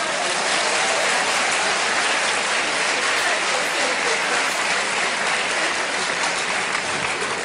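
Sustained applause from a large lecture audience, a dense steady wash of clapping that stays loud and even throughout with no voices standing out.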